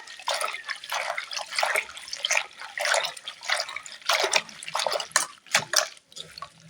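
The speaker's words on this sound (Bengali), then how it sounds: "শাকটাকে বেশ ভালো করে চকুড়ে চকুড়ে ধুয়ে নেব পাট শাকটা" Jute leaves being rinsed under running water to wash off dust, with close, irregular splashing and dripping that rises and falls as the leaves are handled, with no speech.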